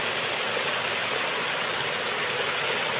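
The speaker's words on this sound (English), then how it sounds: "water's just rushing out." Water rushes steadily out of a muddy bank into a creek near a waterfall, a loud continuous broadband roar with no talk.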